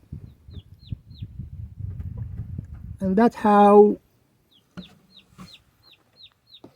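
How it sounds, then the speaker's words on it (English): A hen in a coop gives a loud, harmonic squawking call, with soft repeated clucks and light rustling before and after it. A person speaks briefly. "The chicken can hear them, and she's going."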